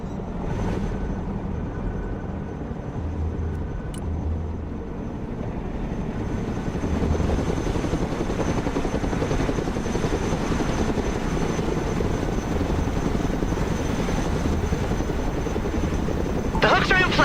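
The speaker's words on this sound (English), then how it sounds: "Let's go and recover it with our helicopter." Cargo helicopter in the video game Broken Arrow, a loud, steady rotor and engine roar that grows slightly stronger partway through, with a voice speaking over it.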